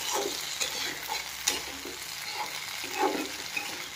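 Eggplant pieces frying and being stirred in a pan for a simple vegetable dish, a steady close sizzle broken by repeated scraping stirs throughout.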